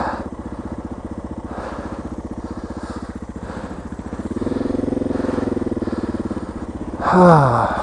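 A Suzuki DR650 street motorcycle engine ridden in snow: a steady, close single-cylinder chug that rises slightly in pitch midway, then a brief revving surge near the end.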